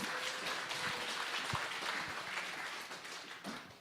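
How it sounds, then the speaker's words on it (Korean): An audience at a Busan church evangelism camp forum applauds to welcome a pastor, a dense, steady crowd clapping heard from within the room that slowly tapers off toward the end. "우리 박수로 환영하겠습니다"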